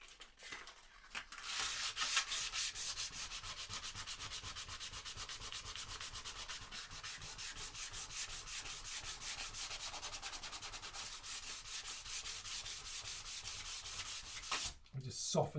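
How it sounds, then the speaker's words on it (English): Guitar wood on an acoustic build gets light hand sanding with 240-grit sandpaper. The rubbing is steady, fast and close, with short breaks near the start and end. "Give them a light sanding."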